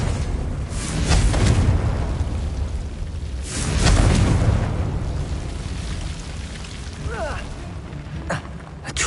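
The Confringo blasting spell in Hogwarts Legacy sets off two heavy, booming explosions a few seconds apart. Each blast is followed by rumbling debris and a fading crackle, with a brief sharper pop near the end.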